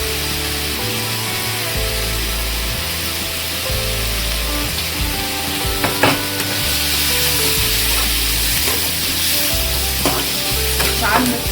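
Eggplant being stirred with turmeric and homemade masala powder in a frying pan, giving a continuous close sizzle with intermittent spatula scrapes and taps against the metal, no voices.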